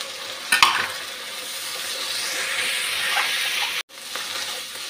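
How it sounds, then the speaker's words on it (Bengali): Chilli and turmeric powder paste sizzles steadily in a hot pan with fish curry masala, a broad continuous fry hiss with a few sharp stirring scrapes near the start and a brief dropout late on. "মশলাটা খুব ভালোভাবে ভেজে নিয়েছি।"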